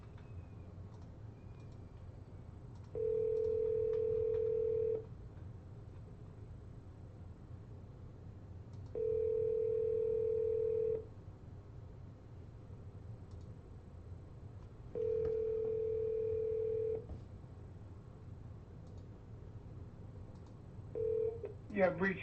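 A telephone rings out on a cold call, three long ringback tones spaced evenly across a low background hum, followed by a brief burst of sound near the end.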